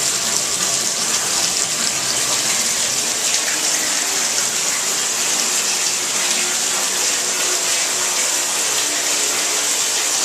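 Water gushes from a long-unused tap in a steady, loud, continuous hissing stream for the whole stretch, with no voices.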